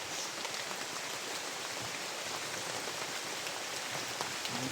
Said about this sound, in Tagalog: Lalo na kapag may hanapin ka, nakakaabala itong ulan.